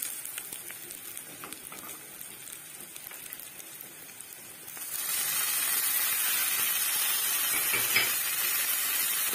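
Tomatoes drop into hot oil in a pan while cooking chholes, bringing a sudden jump to a louder, steady sizzle and hiss that carries on alone.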